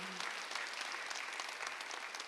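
Church congregation applauding during a Sunday worship service, a steady wash of many hands clapping at moderate distance, continuous and fairly even throughout.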